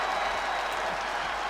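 A wrestling crowd at a live pro wrestling show roars and claps in a dense, sustained wash of noise, loud and steady for a moment with no clear voice on top.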